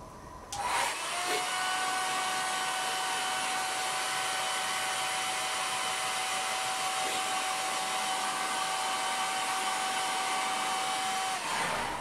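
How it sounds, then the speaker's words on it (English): A hair dryer blows steadily and loudly for about ten seconds, with a constant whirring hum and airy rush, switching on and off cleanly. "so I use a hairdryer to dry it out"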